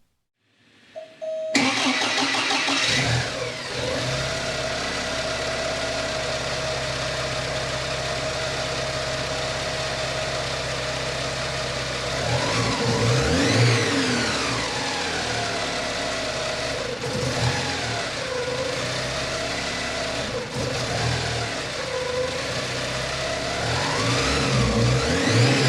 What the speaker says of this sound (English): The engine started right up and didn't present any idle issues